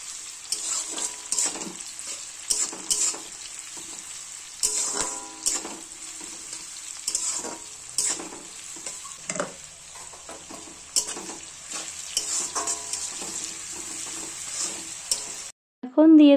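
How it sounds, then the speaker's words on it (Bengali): Chopped onion sizzles and fries in hot oil in a pan, a steady bright crackle with intermittent stirring scrapes, close and clear, ending with a brief louder clatter. "পেঁয়াজটা একটু তেলে ভেজে নেব।"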